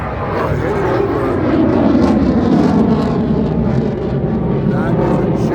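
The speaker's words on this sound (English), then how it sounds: "That is a jet." A jet aircraft passing overhead in Huntington Beach, California, a loud steady roar that swells and lingers for several seconds with broad rushing noise and no clear break.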